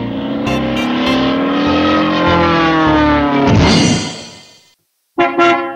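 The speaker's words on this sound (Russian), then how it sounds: "Садимся в автобус!" A cartoon bus pulls away with a loud, rising engine whine that builds and then cuts off. Two short toots follow after a brief silence.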